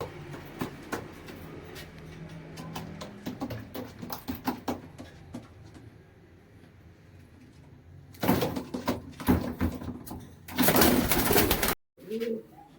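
Pigeons coo in low, repeated throaty calls, near and fairly clear, alongside wing flaps and rustling from the birds, with louder bursts of banging and shuffling later on.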